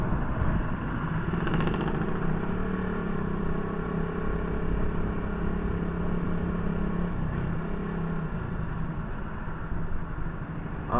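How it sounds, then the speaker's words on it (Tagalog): Dense street traffic at a busy public market gate, with motorcycles and cars idling and revving in a steady, loud rumble throughout and engines droning nearby. "Traffic is real."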